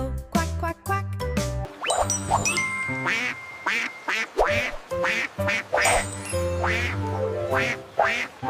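Cartoonish duck quacks repeat in quick bursts over a bouncy musical backing, bright and close.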